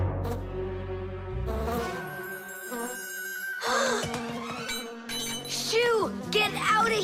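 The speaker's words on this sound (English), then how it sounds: "It's just a plain old bee." Cartoon bee buzzing near a jam jar in an animated kids' show, a wavering insect drone with sliding pitch mixed with music and character vocal sounds.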